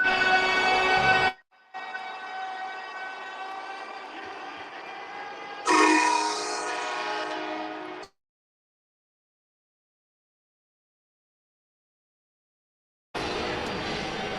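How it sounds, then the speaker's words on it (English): A train horn sounds in long, loud blasts, cutting out abruptly between bursts, with a stretch of silence before it returns. "I had to mute you because of the train horn"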